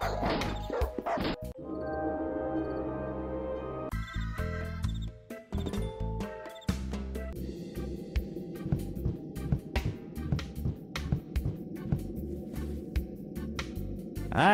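Video game dog from Darkestville Castle barking aggressively, with sharp repeated yaps and bow-wows mixed with crashing game effects and music-like tones throughout.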